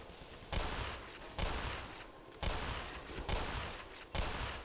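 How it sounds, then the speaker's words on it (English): Auto turrets in the game Black Mesa unleash repeated bursts of rapid gunfire, several sustained volleys separated by brief gaps, loud and close. "There's a couple of auto turrets up there."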